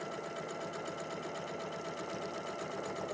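A sewing machine runs steadily, stitching a seam down fabric at a short stitch length, with a continuous even mechanical whir and no pauses or talk.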